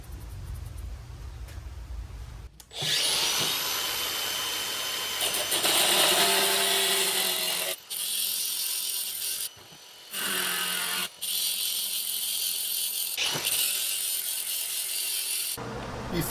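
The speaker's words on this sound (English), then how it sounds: "I'm using 1/4 threaded rods I bought from Menards, and I'm cutting them to 24 inches long." A 1/4 inch threaded rod being cut to 24 inch lengths, a loud steady abrasive cutting whine that runs for long stretches with several brief pauses, close up.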